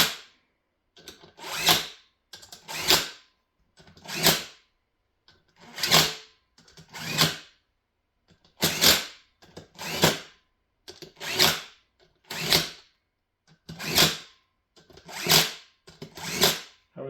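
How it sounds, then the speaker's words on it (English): A 3/8 impact wrench fires in a long string of short, rattling buzzes as it runs down the bolts on a beadlock drag racing wheel, each burst close and loud, separated by brief pauses. "use the 3/8 impact and start cranking them down"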